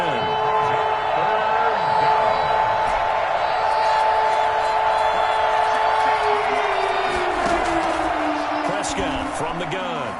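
Stadium crowd in the Madden 21 football game, a continuous broad roar with rising cheers, loud and sustained, while commentators talk over it.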